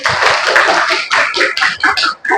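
A school class claps hands in uneven bursts, several quick rounds of clapping close by, with no talking.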